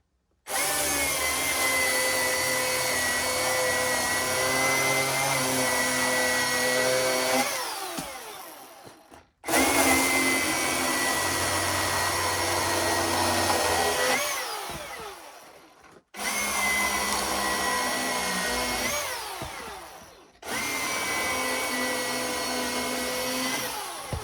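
A small battery-powered saw whines in four long cutting runs during a shed build, each whirring several seconds and then spinning down, with brief pauses between runs. Loud and close, with no voices.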